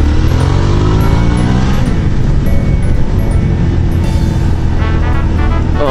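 A garbage truck's engine roars loudly and continuously from close range as it drives, a dense, steady mechanical rumble with shifting pitch and no talk.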